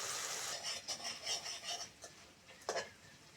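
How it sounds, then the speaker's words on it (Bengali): Spice paste being stir-fried in a pan for a Bengali veg curry, a soft scraping and sizzling rasp as the spatula works the masala, with a few quieter strokes and one louder scrape near the end. "মশলাটা ভালো করে কষে নেব।"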